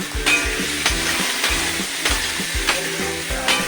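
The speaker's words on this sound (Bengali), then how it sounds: "আলু ভাজা হচ্ছে" Potatoes with turmeric and chilli powder fry in oil with a constant crackling sizzle, broken by regular, rhythmic scrapes of a spatula stirring the pan about every half second.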